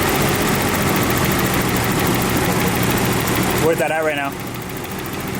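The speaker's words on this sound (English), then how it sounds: "It was idling at like 1100, so we just idle a little bit on the idle air control valve, and idling perfectly" A BMW E30 engine idling steadily at about 1100 rpm with a low, even rumble, and a man's brief question spoken over it near the end.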